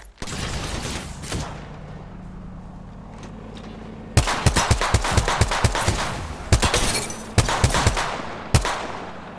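Rapid gunfire bursts and sharp shots crack through a video game firefight, with Mastiff shotgun blasts among them, starting sparse then turning into dense, loud volleys over a low rumbling background.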